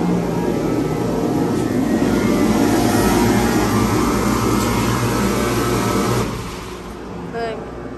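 Two Schindler/ITI submersible hydraulic elevator pump motors run loud and steady in a machine room, a droning hum that drops off sharply near the end, with voices audible over it.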